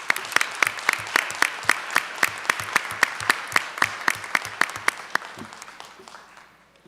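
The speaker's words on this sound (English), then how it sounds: "So we can give a round of applause for them." A small audience at a school board meeting claps in a steady rhythm of distinct, fairly close claps that gradually weaken and stop, with quiet voices beneath.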